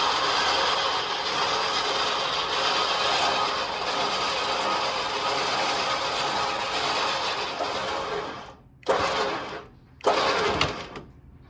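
A ratchet tightens bolts on a Lexus headlight during a budget body repair, giving a steady close-up mechanical whir and clicking for most of the stretch, then two short separate bursts near the end.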